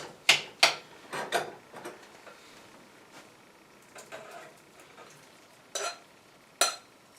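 Lean ground meat dropped into a chili pot with a few soft thuds and scraping spoon strokes against the pot, then quieter stirring and two more sharp scrapes, close and without speech.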